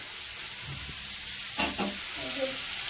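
Potatoes fry in a pan with a steady, even sizzle and hiss, broken by a few soft stirring scrapes, heard close up and fairly faint.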